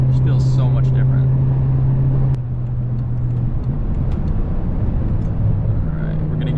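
A BMW F10 M5 engine with a new exhaust drones steadily from inside the car while driving, a loud continuous low rumble with a brief dip partway through and faint speech over it.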